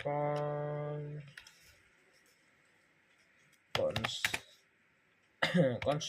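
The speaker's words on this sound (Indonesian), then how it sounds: "kita kasih spasi, terus kita kasih enter, kita ketik, kemudian kita ketik ini const" Keyboard typing while entering C++ code on a computer, heard as two short bursts of clustered key clicks between long quiet stretches, with a person speaking at the start.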